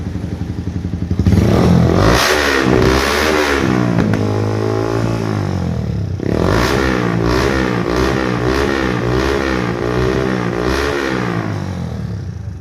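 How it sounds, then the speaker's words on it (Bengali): A Yamaha Version 4 motorcycle with a faulty, smoking engine idles loudly and close, its rough pulsing note swelling into repeated revs that rise and fall throughout, with no talk. "ইয়ামা ভার্সন 4 গাড়ি কিন্তু ইঞ্জিনের সাউন্ড হচ্ছে আর ধোঁয়া মারছে গাড়ি।"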